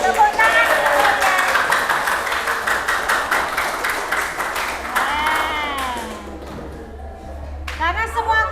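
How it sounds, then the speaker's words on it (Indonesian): Classroom audience clapping together after a class group's chant, dense near applause with talk running over it, thinning out toward the end before a final burst. "Tepuk tangan semuanya."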